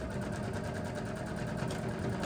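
A sewing machine runs slowly and steadily as it stitches through thick layers of fabric on a bag, a close, even mechanical whir with rapid rhythmic needle clatter and no talking.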